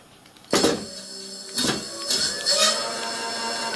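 Electric bicycle hub motor on a bench test, powered from a controller and a 38-volt battery, spinning anti-clockwise at speed setting two on a wheel that runs out of true, giving a steady whirring hum with a few louder knocks and rattles.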